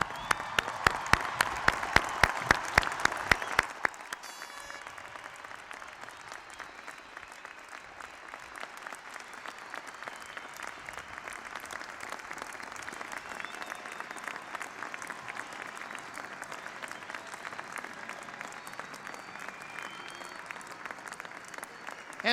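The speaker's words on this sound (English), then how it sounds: "we should all stand up, each and every one of you, including the graduates, and applaud the class of" A standing commencement audience applauds the graduating class of 2005 at a University of Washington ceremony, opening with a loud speaking voice over the start and then settling into a long, even roar of clapping from a large crowd.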